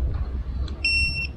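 An electric telescopic pruning shear gives a high electronic beep as it powers on, a short bright tone after a dull motor hum at close range.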